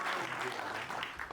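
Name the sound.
audience applause at a mushaira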